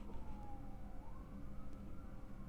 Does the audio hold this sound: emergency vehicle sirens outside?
yes